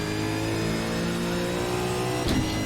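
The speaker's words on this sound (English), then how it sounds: "So you want to rev this out all the way as well." V8 Supercar engine revving hard at Bathurst's Mount Panorama circuit, a loud sustained mid-pitched roar holding steady throughout with a brief surge near the end.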